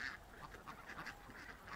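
Ducks quack repeatedly in a busy, overlapping chorus over constant background noise, fairly close, with no talking.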